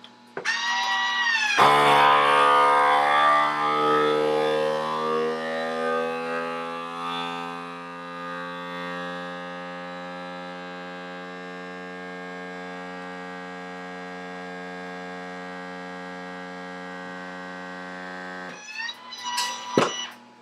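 A steady, droning motor hum from a small vacuum sealer pump runs continuously, louder at first and then settling, with a click and rustle at the end.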